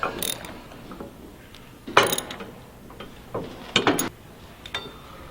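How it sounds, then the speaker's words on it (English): A ratchet tightens bolts on an inverted front fork kit for a Harley-Davidson motorcycle. It gives several short bursts of clicking, separated by quiet gaps, close by and with no talking. "And now it's time to tighten down this"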